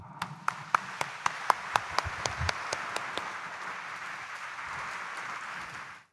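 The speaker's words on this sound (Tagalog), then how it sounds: "Iparinig nga natin sa Kanya ang ating malakas na palakpak." A church congregation at a Quiapo mass claps in a faint, distant burst. Evenly spaced sharp claps stand out at first, then it fades into a soft continuous patter before cutting off.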